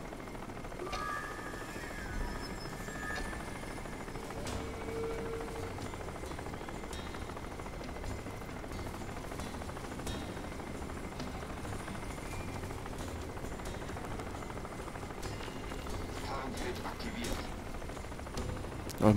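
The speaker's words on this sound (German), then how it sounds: "Dieser Hubschrauber geht mir um den Sack." Helicopter rotor noise and gunfire from the video game Crysis form a dense, steady wash of combat sound, with scattered sharp shot cracks spread throughout at a moderate level.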